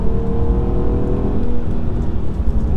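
The ABT-tuned 3.2 V6 engine of an Audi A3 drones loudly and steadily under acceleration, its deep tone thick and continuous with a faint layer of road noise, heard from inside the car.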